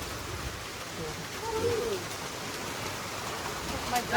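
Steady rain hissing and pattering all around on the Kalsubai trek at night, with a faint bird call briefly rising above it.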